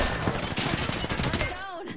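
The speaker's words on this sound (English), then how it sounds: "They're shooting at me." Rapid bursts of automatic gunfire from an Apex Legends match crackle densely through the whole moment, loud and close, with a player's voice talking over the shooting.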